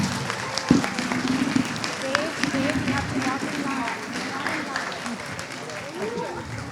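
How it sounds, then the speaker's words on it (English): Audience applause rises at a school annual day as a class leaves the stage, a moderate wash of clapping with crowd murmur and voices talking over it. "let's give them a big round of applause"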